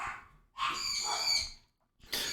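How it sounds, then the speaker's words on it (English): Pet bird screeching in the background, two loud, shrill harmonic calls, the first long and sustained, the second starting after a brief silence, with no talking. "that's the bird in the background"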